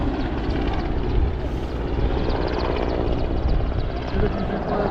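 A Merlin helicopter flying low near Perran Sands, a steady, loud rotor and engine roar that holds throughout with no clear rise or fade.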